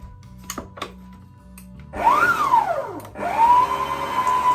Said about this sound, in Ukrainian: Сипемо цукор і включаємо міксер і будемо збивати до гарної пишної маси.